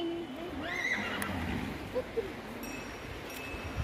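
A horse neighs with a sharp rising whinny near Sadhupul in Himachal, then brief fainter calls, set against open outdoor background noise with a few soft clicks.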